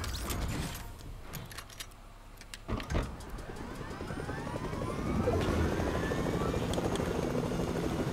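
A helicopter in the Fortnite video game whirs with a steady, building rotor drone, punctuated by a few sharp mechanical clicks and creaks, moderately loud and without voices.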